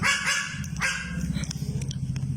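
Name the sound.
animal barking like a dog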